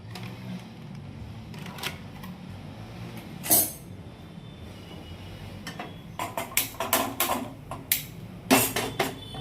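A small pressure cooker is handled on a stove during cooking of stuffed brinjal, with faint metallic knocks and clinks scattered over quiet room noise, coming more often toward the end.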